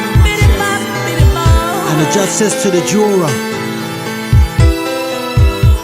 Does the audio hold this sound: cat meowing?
no